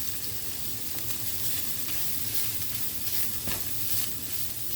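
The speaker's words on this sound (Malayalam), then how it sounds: "നെക്സ്റ്റ് നമുക്ക് ഈ നെയ്യിലേക്ക് തന്നെ കുറച്ച് തേങ്ങ വറുത്തെടുക്കാം." Grated coconut frying in ghee over a low flame gives a steady, close sizzle with soft stirring scrapes throughout, no voices.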